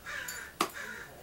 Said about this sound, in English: I hear the crows. Did you hear the crows?